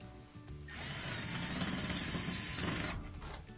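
A Phillips head screw is driven in with a powered screwdriver during a repair on a GE laundry center washer, giving a steady whirring buzz of about two seconds with no talk.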